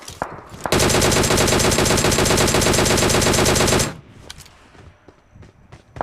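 Video game gunfire from a fortified temple area during a battle-royale event: a loud, fast, unbroken automatic burst lasting about three seconds. A few scattered single shots and faint clicks follow afterward.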